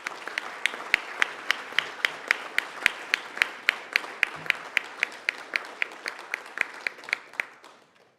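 Applause for award winners at an Education Week awards ceremony: a modest audience claps in a steady, even patter over about eight seconds, individual sharp claps standing out, fading slightly near the end.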